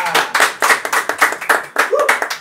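Audience applause at a live comedy show, a steady run of close hand claps with a few voices mixed in, loud and continuous throughout.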